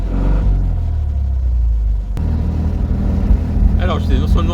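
A 1971 Fiat 500 with its small engine already warm pulls away, a loud low rumble steady at first, then a brief click and revs climbing as it moves off, with a voice talking over the end.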